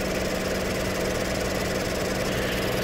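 A 2014 Ford Explorer with a 3.5L engine and an evap system fault idles under the hood, giving a steady, even mechanical hum with a faint ticking texture throughout, with no talk.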